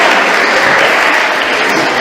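Loud, dense applause from a concert audience at a stage event for a singer and her guitarist friend, a sustained roar of many hands clapping together.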